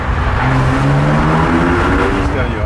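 Porsche 997 MKI Carrera with a SCART exhaust accelerating through a tunnel with the windows open: a loud, continuous engine note that climbs steadily in pitch, close and enveloping.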